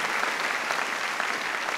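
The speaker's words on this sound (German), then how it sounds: "Komm, wir geben Jesus mal einen mächtigen Applaus heute Morgen." A church congregation claps in a thick, continuous round of applause during a sermon, the clapping even and full throughout the short burst.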